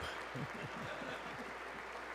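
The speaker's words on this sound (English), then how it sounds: "I wasn't sure if anybody even on this side was going to applaud for that" Applause from a large audience at the State of the Union address, a steady dense clatter of clapping with some voices mixed in beneath it.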